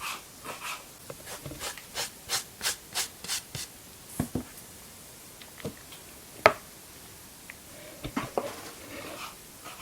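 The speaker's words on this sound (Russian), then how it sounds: "Пока лук обжаривается, режем укропчик." Fresh dill chopped with a knife on a cutting board while onion fries nearby, a run of evenly spaced, crisp blade taps that thin out into scattered, quieter cuts and scrapes.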